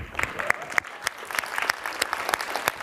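Scattered audience clapping at a tech conference keynote in a grand ballroom: sparse, distinct individual claps at an uneven rhythm rather than a full ovation, over a low room murmur.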